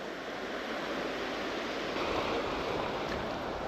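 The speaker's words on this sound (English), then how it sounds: "Yeah, the waves are coming in now." Sea waves roll in on a beach at Skinningrove on the Yorkshire coast, a steady broad wash of surf with a slight swell partway through, with some wind noise and no talking.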